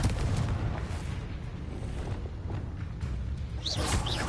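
A Confringo fire spell in Hogwarts Legacy bursts into a loud, rumbling, sustained game explosion with crackling debris and a few bright synthetic whooshes near the end; no one speaks.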